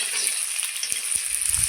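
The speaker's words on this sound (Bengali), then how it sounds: "তো আবারও একটু পেঁয়াজগুলোকে ভেজে নেব।" Chopped onions and freshly grated ginger fry in a pan for a Sunday mutton curry, giving a steady close sizzle with a few soft stirring bumps and no talking.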